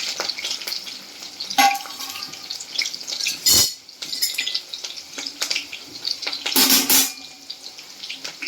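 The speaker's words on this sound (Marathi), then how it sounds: "मिरची छान तळून घ्यायची आहे." Green chilies fry in hot oil, giving a sustained crackling sizzle with irregular bursts of popping and spattering, close and fairly loud, with no voices.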